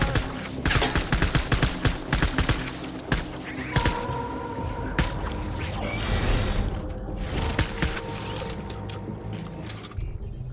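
Rapid gunfire in the Death Stranding video game, a dense run of sharp shots and mechanical clatter, loud and close, thinning toward the end.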